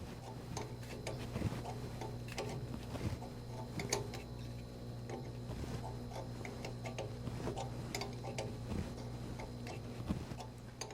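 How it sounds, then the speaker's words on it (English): A wrench turns a large marine impeller puller on a Detroit Diesel pump with quiet, evenly spaced ratcheting ticks, faint against a low steady hum. "So today I'm using a wrench"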